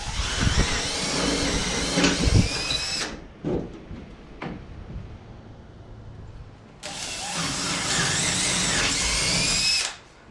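A power drill whirs loudly in a long burst while drilling to install a dog door, stops for a few seconds with a couple of brief knocks, then whirs again in a second long burst.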